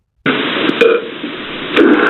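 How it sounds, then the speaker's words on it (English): A low, croaky burp-like sound begins abruptly and drags on for about two seconds, swelling slightly near the end, loud and close. "he's continuously burping"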